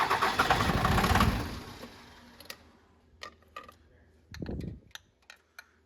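A car engine cranks and catches, revving loudly at first, then settling into a quieter idle with scattered clicks and a short low rumble.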